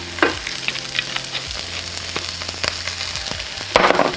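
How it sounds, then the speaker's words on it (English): Onion browns in olive oil over the heat, giving a steady close sizzle with scattered spits and scraping stirs, and a louder burst of frying near the end. "I see that the onion is starting to brown. Maybe just a little bit more of olive oil."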